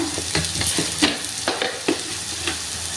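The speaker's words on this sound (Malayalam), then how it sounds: "അര സ്പൂണ് മഞ്ഞൾപ്പൊടി ഇടാം ഇത് നന്നായിട്ടൊന്ന് മൂത്തട്ടെ" Half a spoon of turmeric powder frying in hot oil in a pan for a soybean dish, with a steady close sizzle broken by a few sharp spoon scrapes and stirring knocks.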